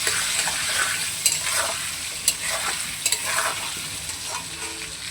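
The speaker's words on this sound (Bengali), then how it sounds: "এবার আলুটাকে একটু লাল লাল করে ভেজে নেব।" Potatoes seasoned with salt, turmeric and a little chilli powder fry in a pan, giving a steady close sizzle broken by a few light stirring clinks, with no talk.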